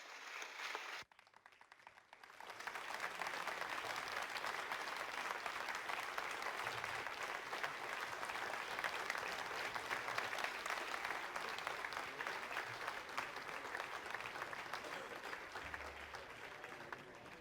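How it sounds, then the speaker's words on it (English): Sustained applause fills a rocket launch control room as Ariane 5 separates GSAT 15, a dense, steady wash of clapping that begins after a brief pause and continues without letup, close and fairly loud. "To applause all round, Ariane 5 has successfully separated her second passenger, GSAT 15"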